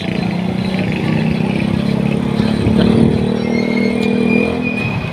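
Heavy road traffic with motorcycles and cars, a dense continuous drone of engines with passing revs swelling and fading, loud and close, with no talk.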